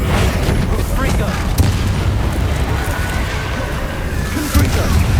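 A Confringo blasting spell in the fantasy game Hogwarts Legacy, heard as loud, sustained rumbling blasts with a couple of sharper booms bursting through, while a voice speaks over it.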